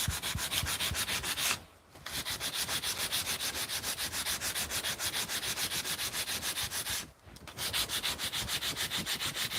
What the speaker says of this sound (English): I am sanding it this way instead of vertically